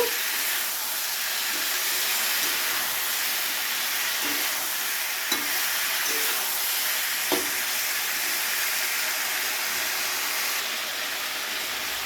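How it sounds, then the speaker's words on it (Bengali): Katla fish fries in a pan with salt, a continuous close hiss of hot oil with a few faint utensil taps scattered through. "নুন দিয়ে আবারও 2 থেকে 3 মিনিট একটু ভেজে নেব।"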